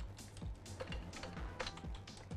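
Computer keyboard typing, a quick run of light clicking keystrokes in an irregular rhythm, close and quiet, with no talk over it.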